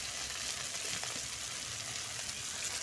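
Steady broadband sizzle of fish frying in a pan as ground spice paste goes in, a continuous hiss with faint scattered crackles and no talk.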